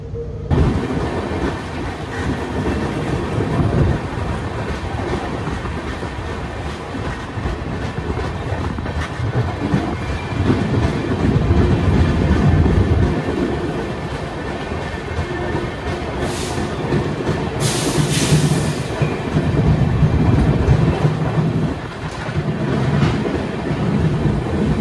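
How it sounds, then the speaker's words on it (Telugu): The Amaravati Express runs steadily on the rails near Toranagallu Junction toward Hospet, a continuous loud rumble and rattle of wheels and carriages, with brief sharper screeches rising over the din. "మరికొద్ది సేపట్లో మన ట్రైన్ హొస్పేట్ చేరుకోబోతుందండి."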